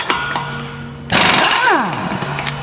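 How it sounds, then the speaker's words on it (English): An air impact wrench hammers at a car lug nut tightened to 200 foot-pounds. The loud, rattling burst arrives abruptly after a quiet moment, then pitches down as it winds off, close to the listener. "first up, our air wrench"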